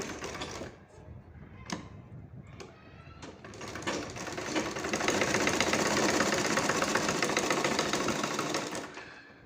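A sewing machine stitches a fabric sleeve strip, starting with a few short clattering bursts, then running in a steady fast mechanical whir for several seconds before stopping, with a voice speaking at the start.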